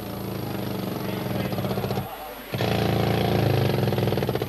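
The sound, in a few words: jackhammer breaking coal in a mine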